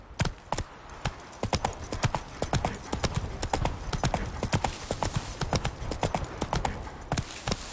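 Roach the horse in The Witcher 3 clip-clops along in a brisk, even rhythm of close, crisp hoofbeats that continue throughout, with a faint whinny-like sound.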